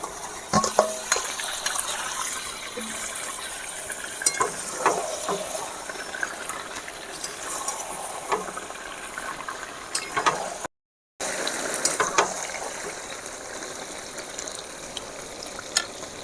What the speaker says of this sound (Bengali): এবারে মটনটা দিয়ে দেব।